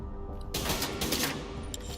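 Gunfire in The Division 2 video game: a short, dense burst of rapid shots that ends in a couple of sharp trailing cracks, with no one talking.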